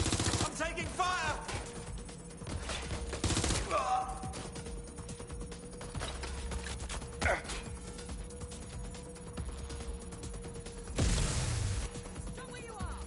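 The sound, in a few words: gunfire in the video game Watch Dogs Legion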